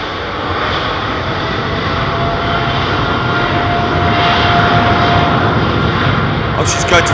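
A fixed-wing airliner on a positioning flight from London Heathrow roars steadily at close range for the whole stretch, its engine noise broad and sustained, with voices talking faintly beneath.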